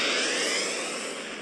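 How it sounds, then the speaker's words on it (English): Spaceship warp engine starting up in the video game Second Galaxy, a loud, broad whooshing roar that begins at full strength and tapers off slightly over a second and a half. "Starting warp engine."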